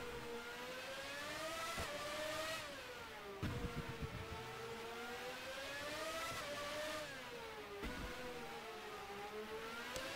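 Formula 1 race car engine in a 1995-season custom F1 racing video game, a loud sustained high-pitched whine rising and falling through repeated gear shifts and revs, steady and close with no talk.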